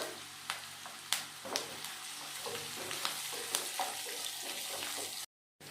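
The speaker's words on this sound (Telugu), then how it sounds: "ఇప్పుడు ఉల్లిపాయలు పచ్చిమిర్చి వేసుకోవాలి." Onions and green chillies sizzle and crackle steadily in hot oil in a pan, with a few sharp clinks of stirring, quiet and close, and no talking.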